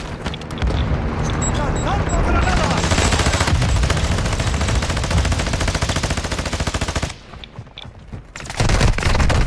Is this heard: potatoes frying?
no